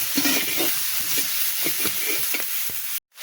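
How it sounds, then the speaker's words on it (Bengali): Onions frying in a pan with chillies for a fish curry, a continuous close sizzle with soft stirring scrapes and taps, cutting off abruptly near the end. "একটু পেঁয়াজ দিয়ে দিলাম। এবার একটু ভাজি করে নেব।"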